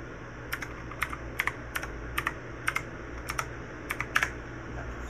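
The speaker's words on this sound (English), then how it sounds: "Yeah, I can type my name on there." Keys pressed on an RGB computer keyboard in small clusters of sharp, close clicks, about a dozen taps spread over a few seconds against a steady low hum.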